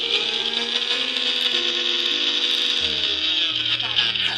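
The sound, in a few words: mixer grinder briefly running masala without water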